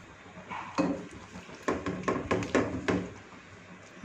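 Black pepper is stirred into a wok of stir-fried chow mein noodles, with a few close, bright clinks and scrapes of a spatula against the pan between quieter pauses.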